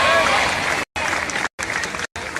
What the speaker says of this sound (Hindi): इसके लिए किसको ताली बजनी चाहिए?